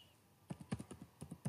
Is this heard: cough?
no